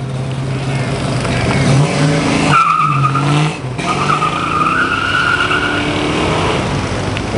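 A 1981 Z28 muscle car with 4-speed and air induction does a burnout at a muscle car event, the engine roaring as the tires squeal in long loud screeches, with a brief drop midway.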